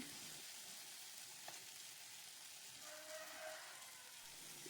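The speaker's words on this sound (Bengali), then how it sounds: "চিংড়ি মাছটা দেওয়ার পর কষিয়েই যাচ্ছে" Jackfruit and prawn curry sizzles steadily in a pan as it is fried down, a continuous close hiss with faint stirring scrapes and no talking.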